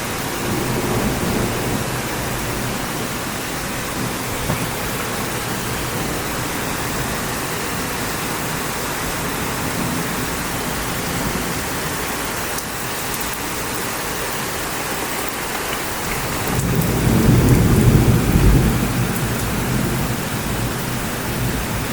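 Steady roar of heavy rain pouring during a strong summer thunderstorm in Bordeaux, with a deep rumble of thunder swelling near the end; no talking.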